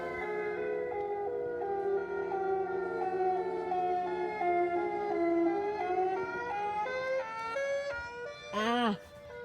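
A mini tornado siren wails steadily with a harmonic drone that rises and falls slightly, then ends in a quick warbling sweep; it is loud and close.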